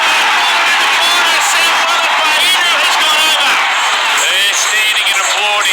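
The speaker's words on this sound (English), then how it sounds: "They're standing and applauding the young 5'8" Galvin." A rugby league crowd stands and applauds the young halfback Galvin, with loud sustained cheering, whoops and clapping filling the stadium throughout.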